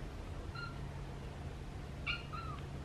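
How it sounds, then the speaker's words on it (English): A small kitten gives two faint, high squeaky meows about a second and a half apart in a quiet indoor room, with no talking. "Little kitten squeaks."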